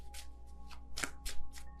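Tarot cards shuffled and drawn from a deck, a quick series of crisp papery flicks and slides, close and fairly loud, with no voice.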